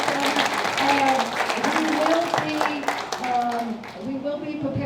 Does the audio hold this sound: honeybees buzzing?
no